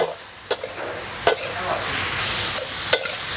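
Tofu is stir-fried for a vegetarian pad see ew, with a steady sizzle in a hot pan and several sharp spatula clacks against the pan at irregular intervals.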